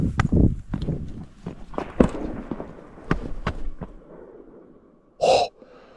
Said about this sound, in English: So I heard a crack over there and then a bang more over to the right.